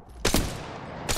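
Gunshots in the battle royale Apex Legends, two quick loud cracks close together and then another shot about a second later, each close and punchy with a short reverberant tail.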